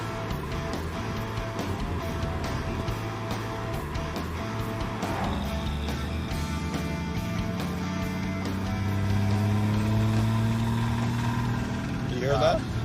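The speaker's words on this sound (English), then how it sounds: "It's as though the engine has shed its bearings." A Chrysler Slant 6 engine in a Plymouth Duster with failing bearings, idling roughly with a steady low drone and pulsing mechanical knock. The engine revs up partway through, with people talking over it.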